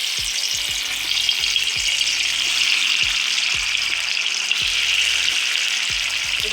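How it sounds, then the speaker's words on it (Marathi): Kothimbir vadi, a coriander fritter, fries in hot oil over a medium flame, a continuous bright crackling hiss with soft rhythmic bubbling underneath, close and alone. "असं आता हे तळून घ्यायचं."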